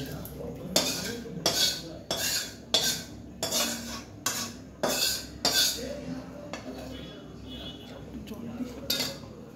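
A spoon scrapes and clinks against a metal pot over and over as spices are stirred into boiling rice and lentils, in steady repeated strokes up close with a faint background hum.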